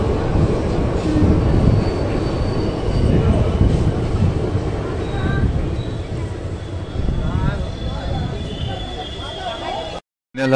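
Train and platform noise at Sultanganj railway station during the 2023 Sawan kanwar pilgrimage, a steady loud rumble with voices mixed in, cutting off abruptly near the end.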